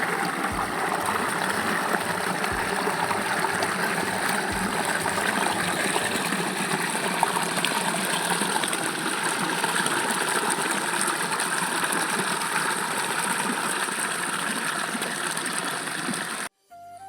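Monsoon floodwater flows across a waterlogged field in a steady, continuous rush that stays even and close throughout, with no talking.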